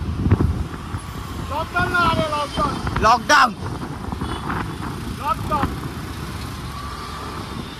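Busy road traffic with engine rumble and wind buffeting, plus a couple of brief tonal horn-like blasts, continuing under loud nearby conversation in Hindi.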